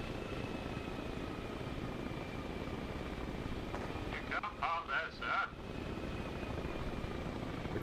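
A helicopter engine in Arma Reforger, still running inside a tower while on fire, drones steadily throughout, and someone speaks briefly over it partway through.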